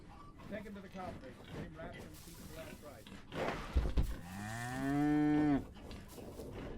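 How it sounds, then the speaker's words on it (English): A cow in the video game Return of the Obra Dinn lets out one long, loud moo near the end, following speech and some footstep-like shuffling earlier on. "Sounds like a cow to me."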